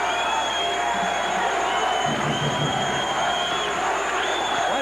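Basketball arena crowd at a Rutgers vs. Princeton game, a steady roar of cheering with scattered whoops that holds for the whole stretch, dense and continuous like a packed gym.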